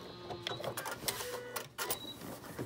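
A sewing machine back stitches a three-layer fabric mask, a quiet rapid mechanical chatter of the needle with small uneven clicks and whirs at close range.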